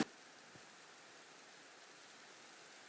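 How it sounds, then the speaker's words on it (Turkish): Steady, soft video game rainfall in Minecraft hisses evenly in the background, a faint continuous patter with no other sounds. "Aa çok güzel yağmur da yağıyor."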